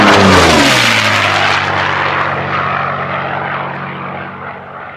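Unlimited-class race airplane at a national championship air race roaring past loud and close, a deep propeller-engine drone that fades gradually as it moves away, with no talking.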